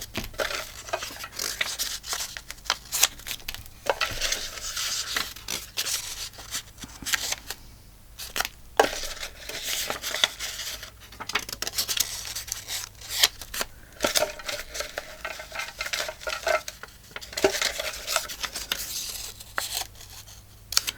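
Scissors snip repeatedly through paper cards being trimmed for a small check-book journal, a steady run of close, crisp cuts and paper rustles with no talk.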